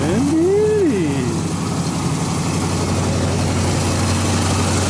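Engine of a 1986 Chevy K-10 pickup idling up close, a steady deep rumble with a brief rising-and-falling whine near the start, no one speaking.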